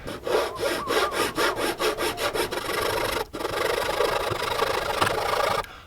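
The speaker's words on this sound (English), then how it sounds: "So I'm going to cut it with a handsaw." A handsaw cuts through wood for a small ice-fishing lure build. Quick rhythmic rasping strokes come first, then a brief pause, then a longer continuous scraping, close and loud with no voices.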